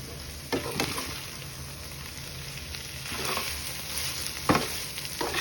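Chicken fries with onions in an open pan, a continuous close sizzle broken by a few sharp spatula stirs and scrapes.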